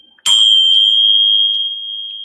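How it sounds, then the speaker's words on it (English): A Tibetan bell is struck once, giving a bright metallic ring with a pure sustained tone that slowly fades over about two seconds, alone and close. "I've literally use my Tibetan bells, a bit like I did with the tuning forks"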